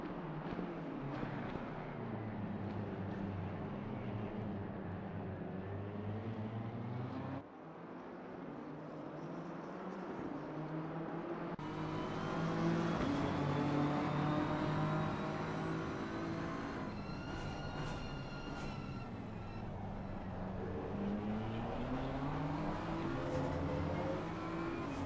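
Race car engines in Assetto Corsa Competizione at Circuit de Spa-Francorchamps climbing through Eau Rouge and Raidillon: a loud, continuous engine howl with rising and falling pitch sweeps through gear changes, and other cars whining nearby.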